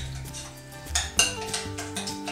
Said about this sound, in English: Now I'm mixing all these, the first four ingredients together because I don't want to break up my yams too much.